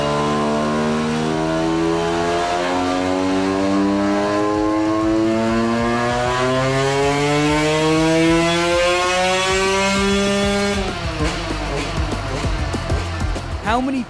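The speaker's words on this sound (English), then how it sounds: "Okay, so that's the 2023 YZ125 on the dyno in its stock form." A stock 2023 Yamaha YZ125 two-stroke motorcycle on a dyno making a full power run, the engine screaming steadily up through the revs, then dropping off and crackling at the end.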